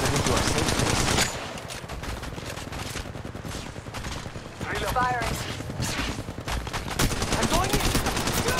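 Dense gunfire in the mobile game Apex Legends Mobile, loud rapid automatic bursts running almost without pause and mixed with game sounds and short voice callouts.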